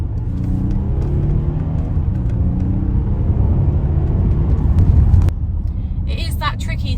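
A Volkswagen Touareg V6 diesel accelerating on the road, its engine and tyre rumble steady and rising in pitch before easing off, heard from inside the cabin under people talking.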